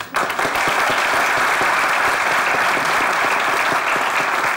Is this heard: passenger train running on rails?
no